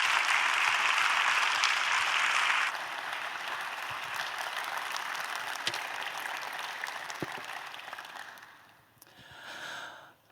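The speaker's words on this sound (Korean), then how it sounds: "목사님 나오실 때 박수로 하나님께 영광 돌리시고" A church congregation at a Friday evening service applauds loudly as the pastor comes forward, the clapping dense at first, then settling to a softer steady patter before fading out.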